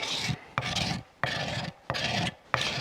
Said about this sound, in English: this scraper card works just as well